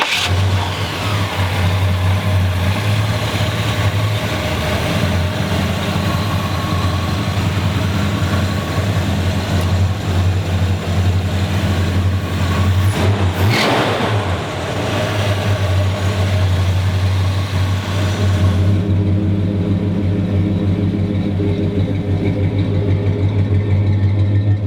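A 1966 Pontiac Grand Prix engine runs loud and close with a deep, steady rumble, rising briefly in a short surge midway before settling back to a low idle-like drone near the end.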